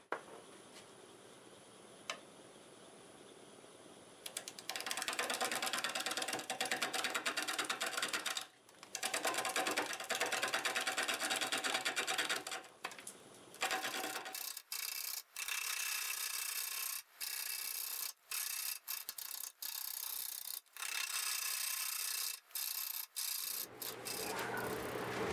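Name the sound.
bowl gouge cutting burl wood on lathe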